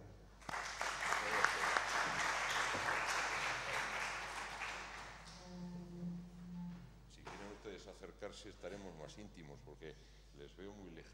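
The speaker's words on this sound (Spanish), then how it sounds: "les voy a pedir que le demos un aplauso de bienvenida" Broad, steady applause from an audience fills the first half, then fades out as a single voice begins speaking.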